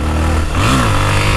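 A Honda XRE motorcycle engine revs up on a hill with a rising, wavering pitch, close and loud, then settles back to a steady drone.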